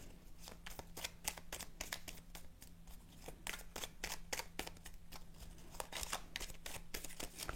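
A deck of cards is cut and shuffled at a tarot-style reading, making a rapid, steady patter of soft riffling clicks and flicks that lasts throughout. It is fairly quiet and close, with a faint steady hum underneath and no talking.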